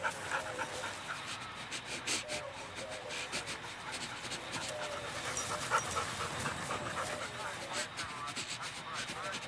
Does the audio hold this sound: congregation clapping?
no